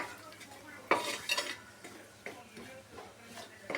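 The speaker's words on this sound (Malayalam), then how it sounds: "നമ്മൾ മുളക് പൊടി, കാശ്മീരി ചില്ലി പൗഡറൊക്കെ ഇട്ട് കൊടുക്കുന്നുണ്ട്. നമ്മൾ നല്ലോണം മിക്സ് ആക്കണം." Mango pickle is stirred with oil and Kashmiri chili powder, giving a run of wet scraping and clinking strokes against the vessel, close and fairly quiet, with a faint sizzle underneath.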